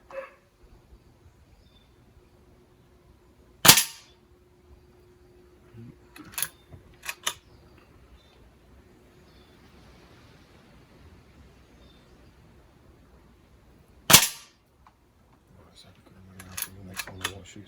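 A Weihrauch HW100 PCP air rifle fires a few sharp, isolated shots spaced several seconds apart outdoors, each a loud crack against quiet background, with faint voices and rustling in between.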